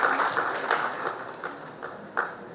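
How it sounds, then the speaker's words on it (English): Audience applause for a corporate technology panel, a dense wash of clapping that starts full and gradually thins out, with a few sharper individual claps near the end. "give a big round of applause to the entire panel"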